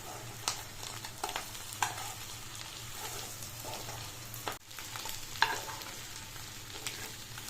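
Eggs fry in oil with salt, chili powder and turmeric, a soft steady sizzle broken by scattered clinks and scrapes of stirring, close but fairly quiet.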